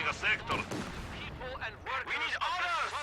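Mortar shells firing and landing in the World War II strategy game Company of Heroes 2, a few muffled booms and impacts amid battlefield clatter, with a commentator talking over the action throughout.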